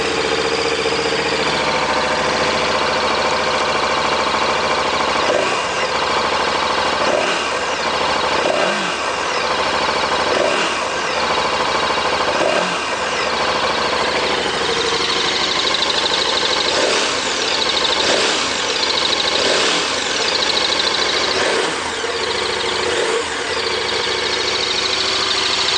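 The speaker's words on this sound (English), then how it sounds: "Let's crank that up again and let you get another hear at the sound of it." A 2015 KTM 1190 Adventure R motorcycle idles close by, its engine a loud, steady, rumbling drone with a regular pulsing beat that continues throughout.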